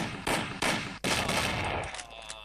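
Gunfire in the game Mafia: several loud, close bursts of shots crack in quick succession, with a sharp blast near the middle that trails into a fading ringing tail.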